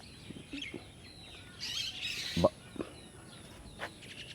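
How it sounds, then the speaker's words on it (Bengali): Birds chirp and tweet in short scattered calls against a quiet outdoor background at dawn, at a road junction in Trish Godown, Barishal, Bangladesh, with one brief louder note standing out midway. "পাখির দলগুলো কিচিমিচি করছেন"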